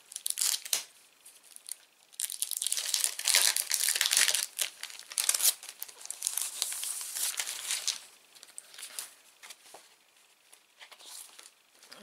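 A small sheet of Easter-themed craft stickers handled at close range, giving bursts of crisp crinkling and crackling plastic-paper rustle that rise and fall in dense clusters, with quieter stretches between, no talk.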